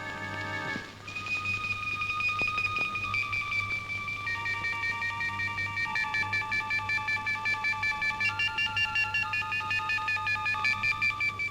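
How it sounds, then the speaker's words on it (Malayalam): A landline telephone being dialed in a dramatic scene, with steady electronic dialing tones pulsing repeatedly over a constant background hum, loud and close, with no talk. "ഞാൻ അവർക്ക് ഫോൺ ചെയ്യാം."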